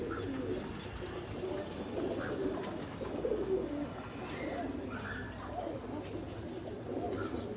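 Moulting pigeons in a home loft coo softly in low, repeated murmurs, with a few faint chirps and light background noise throughout.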